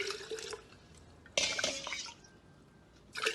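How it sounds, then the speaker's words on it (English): Water poured from a glass into a glass jar, with a trickle and drips, then a louder splashing pour that fades and resumes briefly at the end. "let's see how many glass full of water it will fit in the glass jar"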